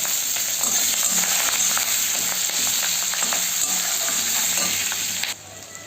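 Chopped onion and green chilli hit hot oil in a pan and fry with a loud, continuous sizzle and faint stirring scrapes, dropping away sharply just before the end.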